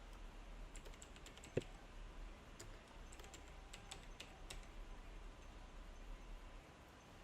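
Fingers type on a computer keyboard while a project title is entered on a freelancing website, giving faint, irregular clusters of light clicking keystrokes against quiet room tone, with no talking.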